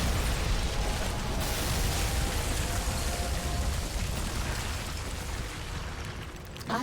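Weapon fire tearing through power sources in the video game Red Faction: Armageddon, a loud, sustained blasting roar with crackling debris that holds steady for several seconds before easing slightly near the end.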